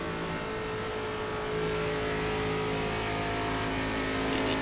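ARCA Series stock cars race at Charlotte Motor Speedway in iRacing, their engines droning loud and continuous, with a slight rise in intensity as the pack closes in.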